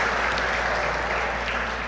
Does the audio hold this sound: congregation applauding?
yes